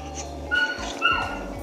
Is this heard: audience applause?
no